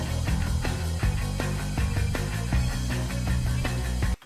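Rigid, machine-like programmed drums with a steady kick and splashy crash cymbals drive along under a thick, distorted guitar, loud and dense.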